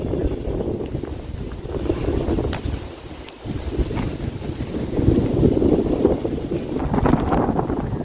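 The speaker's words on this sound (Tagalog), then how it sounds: "Sobrang hangin ngayon." Strong wind buffets the microphone at the Wallace Monument in Scotland, gusting in heavy rumbling surges that dip briefly before building again, with no talk.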